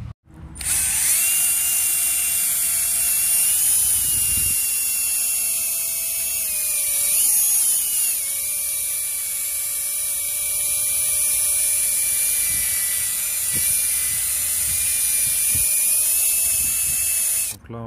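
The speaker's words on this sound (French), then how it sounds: "on met du produit comme ceci sur la zone à polir et puis on polit" An electric polisher working a scratch out of car paint gives a loud, steady whining drone with slight pitch dips as pressure changes, running continuously close by.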